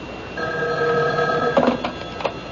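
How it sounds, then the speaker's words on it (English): A telephone bell rings in a radio mystery drama, a steady trilling ring sustained for over a second, followed by a few sharp clicks as the receiver is handled. "Excuse me, that's my phone."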